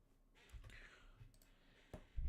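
Typing on a computer keyboard during a hands-on web security exercise: a few scattered, soft key clicks and taps at close range, quiet and irregular, with no speech.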